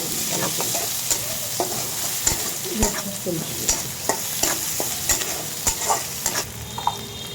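Dried fish frying with onions and chilies for a jackfruit-seed curry, a close steady sizzle marked by frequent sharp scrapes and taps of a spoon against the pan, with no talking.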